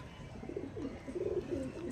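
A male pigeon coos in a short series of soft, low murmuring calls, close by and fairly quiet, with no talk over it.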